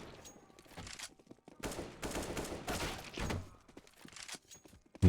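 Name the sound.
gunfire in the video game CS:GO warm-up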